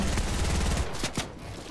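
Rapid automatic gunfire in the Fortnite video game rattles loudly in a dense fusillade, then tapers into a few separate shots, with no talking.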